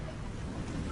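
Thunder rumbles far off in a dry African landscape, a steady low, muffled roll with a faint hiss, even and unbroken throughout.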